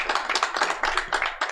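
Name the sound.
applause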